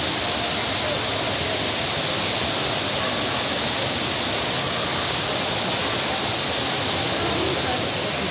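A steady, loud roar of falling water at a zoo waterfall in Wrocław, Poland, constant and unbroken throughout, like standing close to it.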